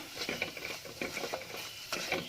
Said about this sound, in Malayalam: ഒരു 1/2 സ്പൂണ് ഗരം മസാല. പൊടി നന്നായിട്ട് മൂത്ത് വരട്ടെ.